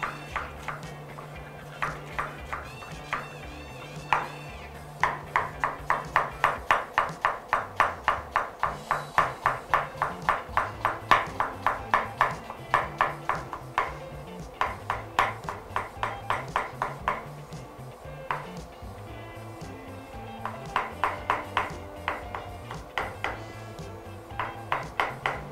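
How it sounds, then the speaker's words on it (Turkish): Red onion being chopped with a knife on a cutting board for a fish dish on a restaurant cooking show; quick, steady, fairly close knife taps run through most of the stretch over soft background music. "Kırmızı soğanımızı doğradık."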